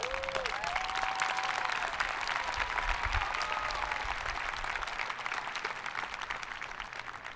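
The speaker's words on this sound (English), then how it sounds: "Give yourselves a round of applause" Sustained crowd applause at a 2021 College of Health and Human Services commencement ceremony, a dense, even wash of clapping heard from some distance that fades slightly toward the end.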